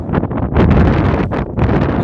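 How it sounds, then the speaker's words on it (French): Heavy rain and strong wind buffet a hiker on the GR 65 pilgrimage trail in the cold, producing a loud continuous rumble of wind on the microphone that swells and dips in gusts. "Ça y est, c'est la grosse pluie."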